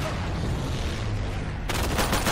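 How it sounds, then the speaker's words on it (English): In the World War II shooter Day of Infamy, a grenade blast lands amid ongoing gunfire, a sudden dense crack and burst near the end of a brief, noisy stretch of shooting. "Grenade exploded and killed that guy that I was shooting at"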